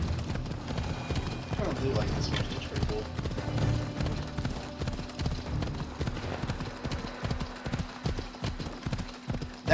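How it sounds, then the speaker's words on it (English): A horse's hooves clip-clop in a steady trotting rhythm in the Assassin's Creed Odyssey video game, fairly quiet, with someone talking over it. "Here's my horse."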